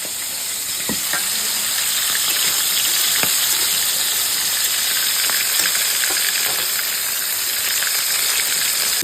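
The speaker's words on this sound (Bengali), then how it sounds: "মশলা কষানো হচ্ছে পেঁয়াজগুলো ভাজা হয়ে গেছে" Spices and fried onions sizzle steadily in a pan during home cooking, a loud continuous crackle with small pops throughout and no talking.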